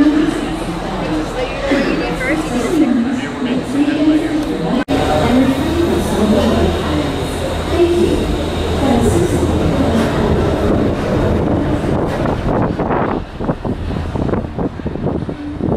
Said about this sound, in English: welcome aboard the Disney Skyliner at Disney's Art of Animation Resort